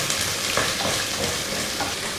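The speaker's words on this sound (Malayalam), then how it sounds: "അത് ഇഞ്ചി വെളുത്തുള്ളി ഒന്ന് മൂത്ത് വരുമ്പോൾ നമുക്ക് ഇതിനകത്തോട്ട് സവോള ചേർത്ത് കൊടുക്കാം." Onions sautéing with ginger and garlic in a pan for a Kerala pork fry, a steady close sizzle with light stirring scrapes throughout.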